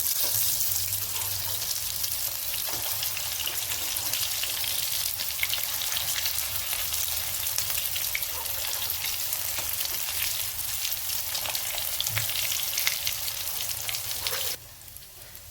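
Bread cutlets fry in a little oil on a pan with a close, even, crackling sizzle that holds steady for most of the time, then drops off suddenly just before the end.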